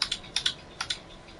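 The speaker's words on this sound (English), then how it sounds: "Is that actually sound like the keyboard?" Keys clatter on a computer keyboard during an online game session, a handful of quick, light clicks in short bursts, close and fairly quiet with no talk.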